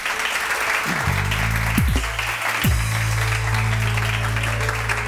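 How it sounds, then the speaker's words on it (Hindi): Continuous applause from a TV studio audience, steady and fairly loud throughout, with low sustained tones underneath. "तालियां तो बजाएं।"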